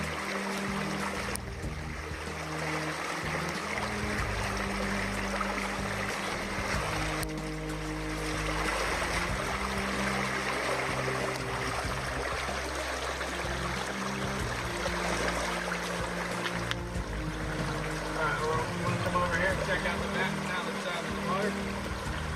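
Water rinses out a treasure-hunting mat outdoors, a steady broad rushing flow with low rumbling underneath, lasting throughout with voices talking over it.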